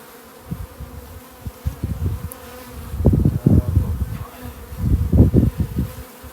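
Honeybees buzz around an open nuc hive during a frame inspection, a close, fluctuating drone that swells louder in bursts as bees fly near, with no talking.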